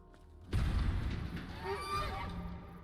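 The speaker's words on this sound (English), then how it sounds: "Jurassic Goose!" A goose honks in a video game, a loud burst arriving suddenly and followed by rising and falling honk calls over a busy, booming game soundscape.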